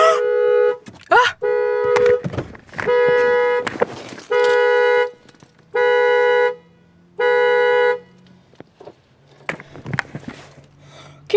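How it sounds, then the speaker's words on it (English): A car alarm blares in repeated long, loud tonal bursts with short gaps between them, and speech and rustling are heard before and after it. "my car alarm just went off and I didn't know how to stop it"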